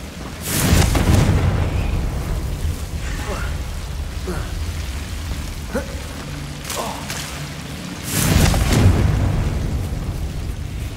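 Confringo blasting spells burst in the Hogwarts Legacy video game: two loud, booming explosions, one near the start and one late, with softer crackling impacts between them over a rumbling backdrop.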